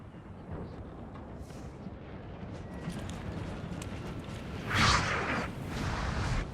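Artillery booms in the Napoleon Total War video game during a battle at the siege of Gibraltar, rumbling at a distance, with a louder burst near the five-second mark over a steady low roar of combat.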